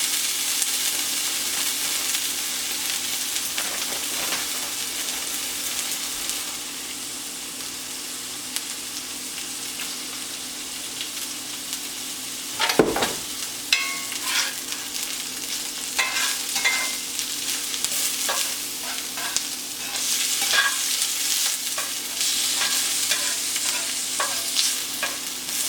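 Hashbrowns and eggs fry in a skillet with a steady sizzle while being stirred and scraped, with one sharp clack of a utensil partway through and continuous cooking noise throughout.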